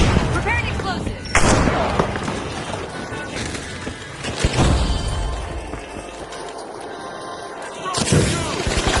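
Explosives detonating in The Finals video game: several loud, crashing blasts with booming bursts and debris, spread through busy combat noise.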